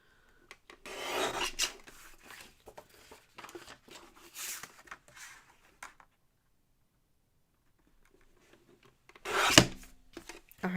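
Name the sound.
trimming the top of card stock for a card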